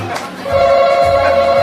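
A telephone ring stands in for a quiz buzzer at a lively birthday party, giving a steady, sustained electronic tone for about a second over a low background hum, with no talking during it.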